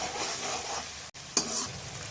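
Masala of tomato, mint and coriander frying in oil in a kadai, a steady close sizzle with a stirring scrape partway through and no talk.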